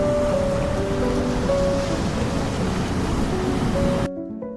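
Iguazu Falls waterfall, a dense, continuous roar of rushing water with steady broadband noise that cuts off abruptly just before the end.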